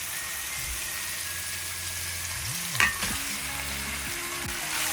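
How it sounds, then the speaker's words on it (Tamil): Bacon and carrot frying together in a pan, a steady even sizzle throughout with a brief stir of the utensil midway. "இப்போ இந்த பேக்கனை இதோட சேர்த்து வதங்கிக்க சரியான பதத்துக்கு கேரட்டோட இது வதங்கி வரும்"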